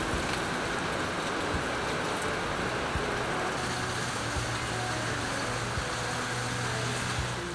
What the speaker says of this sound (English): as soon as I stopped here, it started pouring